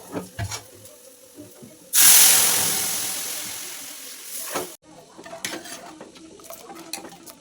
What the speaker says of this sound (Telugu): తాలింపు పెట్టేస్తున్నాను.